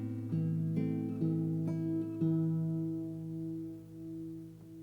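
A classical guitar plays the opening measure of Leo Brouwer's Un Dia de Noviembre, an open A ringing beneath a series of gently plucked notes, solo and unaccompanied at moderate volume, fading as it ends.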